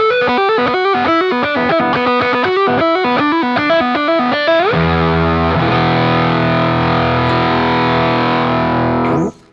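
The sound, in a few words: electric guitar through fuzz pedal, single coil pickup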